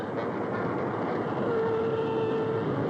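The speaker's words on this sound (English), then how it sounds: "You are taking a very late train, I see." Train running in a radio drama, heard as a steady, loud rumble of rail cars rolling along the tracks with a sustained whistle-like tone over the last half, and no talking.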